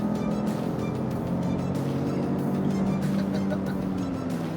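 A Lincoln Navigator luxury SUV with a 3.5-liter twin-turbo engine accelerates hard, heard from inside the cabin as a steady, loud engine drone with rising tone and road rumble, no talk over it.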